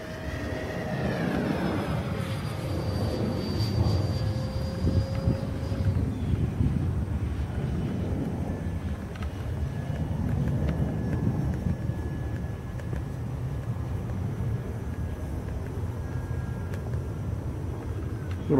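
An E-flite Leader 480 electric RC airplane flying aerobatic maneuvers such as Cuban eights on a windy day, a steady whining motor with pitch shifts as it climbs and dives, heard under wind buffeting at moderate distance.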